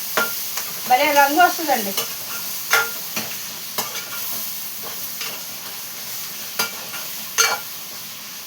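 Prawns frying and being stirred in a pan, a steady sizzle broken by repeated scraping stir strokes; a voice speaks briefly over the cooking.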